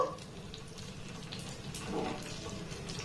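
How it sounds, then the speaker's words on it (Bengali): A small amount of water pours into a cooking pot holding curry leaves, a soft splashing wash that runs steadily for about three seconds at moderate, slightly distant level. "এবার এখানে দিয়ে দেবো অল্প একটু জল।"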